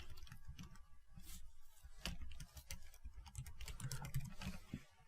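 Quick, light keystrokes on a computer keyboard as an email address is entered while signing up for a GitHub account, a steady patter of soft clicks heard close and alone.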